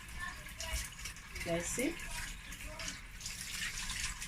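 Tap water runs steadily into a sink while a knife scrapes food being cleaned, a faint wash under someone talking, with brief clatters partway through.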